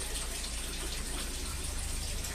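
Water is poured in a steady, continuous gush to top up the tank of a rooftop garden at night, with no voices present.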